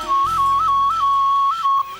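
Boran tribesmen in Africa whistle to a honeyguide bird: a steady whistled tone with small upward flicks, held for about two seconds over a low rumbling background.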